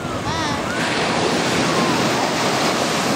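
Sea waves break and wash steadily onto the sand at Silvalde beach, a continuous loud surf roar with wind buffeting the microphone throughout.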